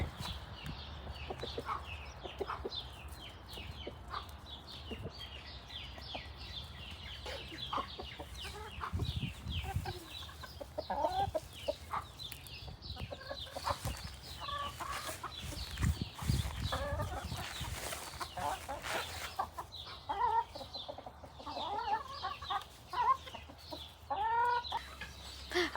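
Chickens cluck steadily with a rooster among them, a busy flock of short calls overlapping throughout, fairly close with some louder bursts.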